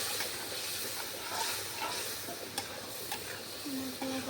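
A ground paste of cumin, garlic and ginger, dropped into a pan after turmeric, sizzles and hisses steadily up close, with a few sharp clinks of a utensil stirring against the pan.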